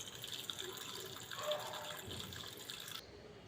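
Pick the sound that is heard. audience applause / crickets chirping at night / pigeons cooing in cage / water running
water running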